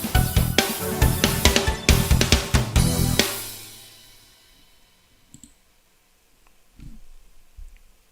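An 80s-style synth keyboard plays a quick run of sharp, bright stabbed notes for about three seconds, then fades into a decaying tail, followed by a few faint isolated clicks and knocks in near silence.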